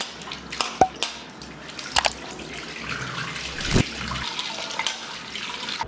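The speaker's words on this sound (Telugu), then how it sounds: "గోరింటాకు ఆకుల్ని తప్పకుండా 2-3 సార్లు శుభ్రంగా క్లీన్ చేసుకోవాలండి" Henna leaves get washed by hand in water, with splashes, drips and sloshing that come in irregular bursts of varying loudness, close by and with no talking.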